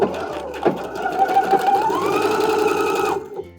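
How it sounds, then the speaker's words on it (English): A sewing machine running a half-inch seam with backstitching on a thrifted 1980s jacket being remade into a dress, its motor whirring steadily up close for a few seconds before stopping. "now we're gonna go ahead and sew a 1/2 inch seam. Make sure you back stitch."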